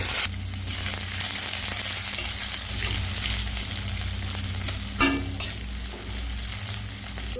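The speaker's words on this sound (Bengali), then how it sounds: "এবার তেলের ভিতরে কালো জিরে দিয়ে দেবো এবার পেঁয়াজ রসুনটাও ভেজে নেব" Onion and garlic with nigella seeds fry in hot oil, making a loud, close, continuous sizzle with a brief stirring clatter near the end. No voices.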